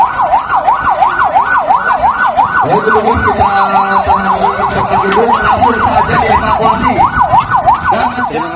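A wailing ambulance siren sweeps steadily up and down in rapid cycles, loud and continuous, with traffic rumble beneath it.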